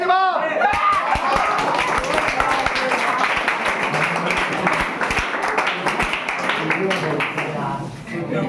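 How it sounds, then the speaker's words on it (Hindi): A room of students at a class 10 quiz competition breaks into dense, continuous clapping for a correct answer, sustained for several seconds before easing off at the end. "ताली।"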